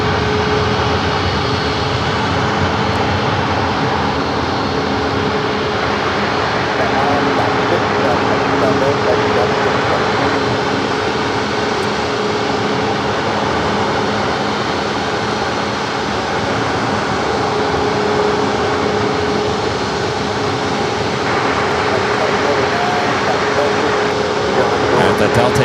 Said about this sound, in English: a southwest heading into one of the gates right below our microphone